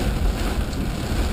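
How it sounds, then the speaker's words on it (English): Heavy rain pours down outside during an air-conditioning service call in Sacramento, a dense, steady hiss mixed with low wind rumble, close and unbroken for a moment with no voices. "it's raining cats and dogs now"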